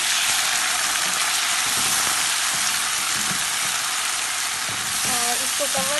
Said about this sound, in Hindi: तो अब इसमें हम प्याज ऐड कर लेंगे।